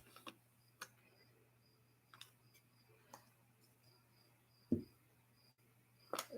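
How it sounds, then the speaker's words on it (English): Crickets chirp faintly outdoors at night in a quiet rural setting, their thin, repeating trills steady in the background with a few soft knocks and taps nearby. "Yeah, you probably do hear crickets. I hear crickets too."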